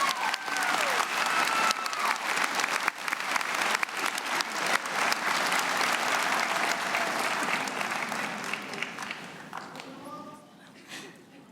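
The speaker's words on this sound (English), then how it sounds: "please give a huge round of applause for the people who are so proud of you today" A graduation ceremony audience at Clovis Community College breaks into sustained applause, a dense crowd of clapping with a few cheers that holds steady and then gradually fades away near the end.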